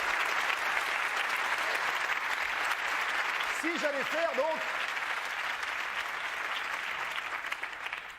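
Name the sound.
studio audience applause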